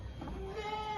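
A dairy goat on a goat farm gives a single faint, drawn-out bleat, heard at a distance against a low background hum.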